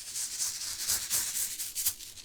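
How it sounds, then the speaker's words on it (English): Seeds shifting and rattling inside a packet, a soft, close, gritty rustle that swells and fades in gentle shakes, heard alone. "that sound of free-flowing and gently rattling seeds inside"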